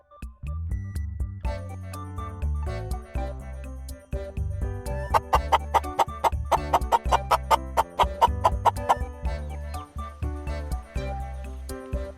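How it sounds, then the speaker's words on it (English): Chickens clucking in short repeated bursts over background music, the clucks growing busier and louder toward the middle before easing off. "Here comes the clucking chicken."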